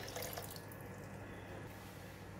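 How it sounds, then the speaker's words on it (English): Water is poured into a pot of braised chicken feet with red bean curd, a steady splashing pour close by that is fairly quiet and continuous with no talk. "now I'm going to add in some more water"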